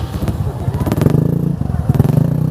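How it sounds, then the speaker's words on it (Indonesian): A motorcycle engine idles and revs in uneven pulses while being loaded onto a ferry, with clattering thumps of the ramp and handling mixed in, loud and close. "proses muat motor yang mau nyebrang ke"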